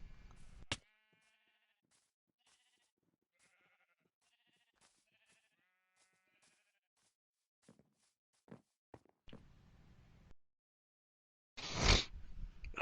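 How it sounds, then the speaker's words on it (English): Sheep bleat in a Minecraft farm as a series of short, fairly close bleats over the first half, followed by scattered footsteps and a louder burst of noise near the end, with no talk. "I think I found the sheeps you were talking about."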